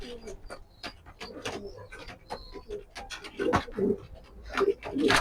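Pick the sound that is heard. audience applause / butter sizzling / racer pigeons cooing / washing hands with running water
racer pigeons cooing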